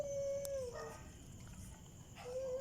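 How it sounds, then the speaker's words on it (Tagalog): A puppy lets out a thin, wavering howl, trails off, then starts another near the end, close and fairly quiet against a faint background hiss. "Itong tuta na to"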